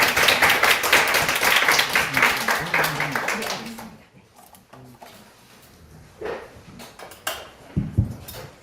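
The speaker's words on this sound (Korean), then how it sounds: "큰 박수로 환영해 주시기 바랍니다" Audience at a lecture on startup coding applauding to welcome the lecturer, a loud burst of clapping that fades after a few seconds into scattered rustles, knocks and quiet room noise.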